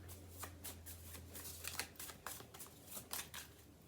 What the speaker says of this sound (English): Let me pull a card to confirm that.